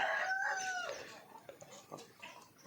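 Hens on a rooftop poultry farm, heard as a short burst of loud, strained calling up front followed by scattered, softer clucks that taper off over a couple of seconds.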